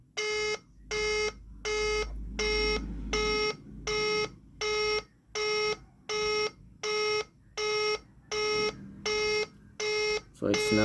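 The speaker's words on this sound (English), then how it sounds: "So it's now dialing." A Y22 smartwatch sounds a Bluetooth call dialing tone: a steady run of about twelve evenly spaced electronic beeps, each lasting roughly half a second, loud and close, with faint background noise.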